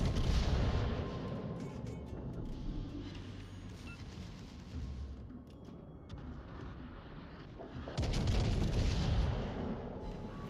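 Naval artillery from a Siegfried battleship's big guns in World of Warships, deep booming salvos with rumbling low end, a heavy blast early and another near the end amid continuous battle noise.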